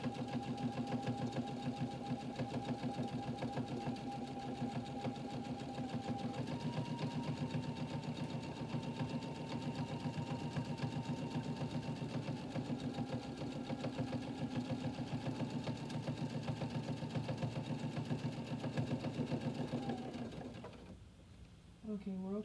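A sewing machine stitches in a steady, fast mechanical whir that runs unbroken for about twenty seconds before stopping, with a person talking faintly now and then.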